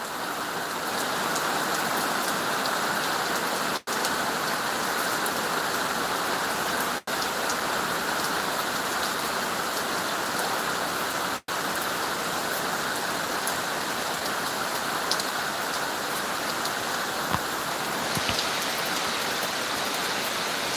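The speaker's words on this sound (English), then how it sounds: "This rain fits my mood perfectly." Steady, dense rain pours down outdoors, a continuous hiss of drops on surfaces that stays even and close throughout, broken only by a few brief dropouts.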